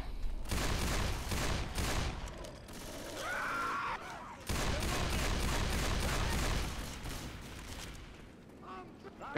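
Fully automatic weapons fire in rapid, dense bursts in Left 4 Dead 2, loud rattling volleys with mechanical clicks, a short pause near the middle before firing resumes, and a voice talking over parts of it.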